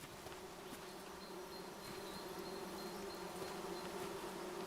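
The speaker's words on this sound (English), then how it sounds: "There's that noise again. So there's definitely bees somewhere" Bees buzzing in the forest game Among Trees, a steady continuous insect drone with no visible source, holding at an even moderate level throughout with no voices.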